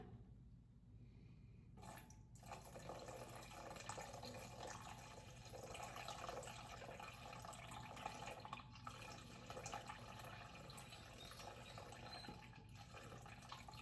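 Warm tap water runs steadily into a bowl, a continuous splashing hiss that holds at an even level for the whole stretch after a brief quieter start.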